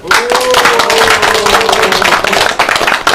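An audience at a public lecture on constitutional values at a district office applauds, a loud, dense burst of many clapping hands sustained for a few seconds, close and unbroken.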